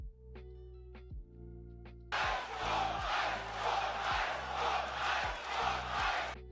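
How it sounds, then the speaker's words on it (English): A live wrestling crowd at an AEW championship match between Brody King and MJF erupts into loud, roaring cheers after a few seconds of quieter sound, the rhythmic chanting surges holding strong to the end. "That cheer right there was live last night"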